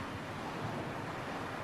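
Sea waves wash steadily onto the shore in a Tagalog drama, a continuous soft rushing surf with some wind noise, moderately quiet and with no voices.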